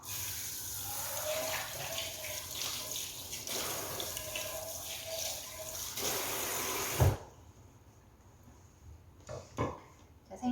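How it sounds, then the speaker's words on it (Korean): Tap water runs steadily while salted fish is rinsed clean under it, a continuous splashing rush that stops abruptly partway through, followed by a few faint drips and clatters. "생선에 염장 처리해놨던 걸 깨끗하게 한번 씻어주고 오도록 할게요"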